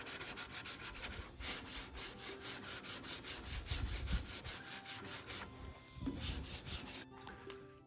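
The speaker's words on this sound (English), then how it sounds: "I can probably just finish sanding that out with my finger." Close, steady hand sanding of primer over fiberglass with a finger, rhythmic back-and-forth rubbing strokes on a hard surface, a brief pause near the end, no voices.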